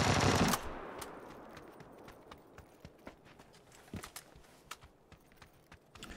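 Rapid AK assault rifle gunfire in the PUBG video game, a fast burst of sharp shots followed by scattered distant cracks, fairly faint under a noisy background.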